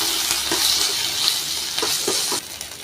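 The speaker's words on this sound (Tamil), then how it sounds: "ஸோ ஜிஞ்சர் கார்லிக் பேஸ்ட் தான் ஆட் பண்ணுறேன்" Ginger garlic paste sizzles and fries in a pan while a spoon stirs it, giving a steady close hiss broken by soft scraping strokes.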